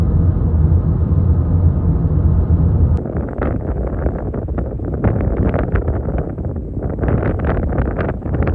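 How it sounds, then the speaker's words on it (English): Strong, roaring wind buffets the microphone at Kata Tjuta in Central Australia, a loud continuous rumble with gusty fluctuations that swamps everything else. "as you can hardly hear what I'm saying here, as it was a very windy day"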